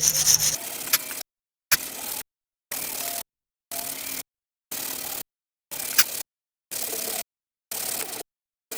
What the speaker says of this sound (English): my weapon of choice is a steel wire brush